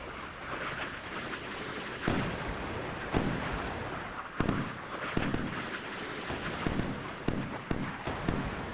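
Sea Whiz close-in weapon system fires in the naval video game Sea Power as a string of sharp, loud bursts at irregular intervals over a rumbling battle background.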